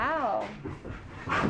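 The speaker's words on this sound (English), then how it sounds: "I think the puppies are arguing." Puppies whimper and pant close by, a rising whine followed by soft panting and yips, with a person talking over them.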